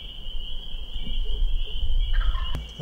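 Wild turkey gobbling from a distance outdoors near a hunting blind, faint under a steady high insect-like drone, with a sharper call near the end.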